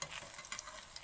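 Pitha frying in a pan is slowly stirred, giving a soft continuous sizzle with faint scraping, steady and close, with no voices.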